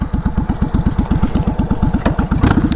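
Motorcycle engine pulsing steadily while cruising on a spring road in upstate New York, a loud, close, rapid regular thump throughout with brief wind noise.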